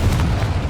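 Confringo fire spell in the wizarding game Hogwarts Legacy bursting with a deep, rumbling boom that holds steady and loud through the whole brief moment, no voices over it.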